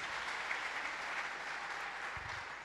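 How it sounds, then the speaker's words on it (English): Church congregation claps for Jesus after a prayer, a steady, even roar of many hands clapping together throughout, with a low thump near the end. "Shall we clap for Jesus?"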